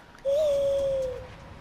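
An owl in the video game Far Cry Primal gives a single clear, sustained hoot that rises slightly and then holds steady before fading over quiet ambience.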